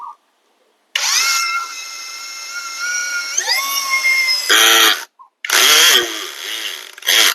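A Yofidra brushless cordless 3-in-1 drill screwdriver whirs loudly as it tightens a screw, its motor rising in pitch and then straining, stopping, and starting again in short bursts, close up with no talk.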